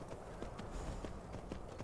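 Horse hooves clip-clopping at a steady walking rhythm in the video game Skyrim, a continuous series of muffled, evenly spaced beats with no talk over them.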